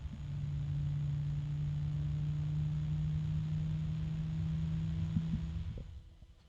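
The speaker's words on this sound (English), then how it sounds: "That kind of metallic noise you hear is the dual ball bearings." A steady mechanical hum with a faint metallic whine from dual ball bearings in a running EBM-Papst W2G110-AN29-87 fan, continuous and fairly loud, fading out at the end.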